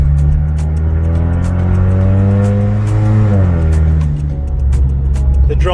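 A 2017 Ford Mustang EcoBoost drones loudly from inside the cabin while driving, a steady low exhaust hum with harmonics that slide down and back up as the revs shift.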